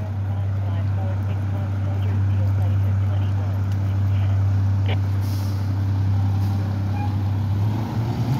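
A garbage truck collecting trash on a Boston street gives off a loud, steady low engine drone, with people talking over it.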